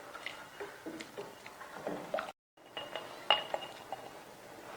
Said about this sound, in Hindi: 20 मिनट से मैं खीर को इसी तरह चम्मच चलाते हुए मुसलसल बना रही हूँ